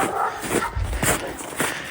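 Dogs barking around a visiting dog near a wolf area, a few sharp barks and yelps spaced out over a noisy outdoor background, fairly close.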